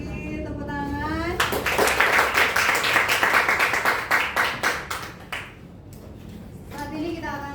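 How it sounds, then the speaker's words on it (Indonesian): A classroom of students claps together, a burst of dense applause that thins into scattered claps and fades, with a teacher's voice speaking before and after it. "Tepuk tangan."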